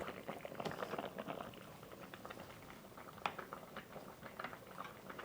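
Persian loquat jam simmers uncovered in a pot, giving a faint, steady bubbling and soft popping patter of thickening syrup, with no talk.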